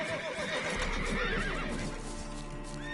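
Geralt's horse Roach from Witcher 3 whinnies in a loud, wavering neigh, with hoof clip-clops and game ambience running beneath it.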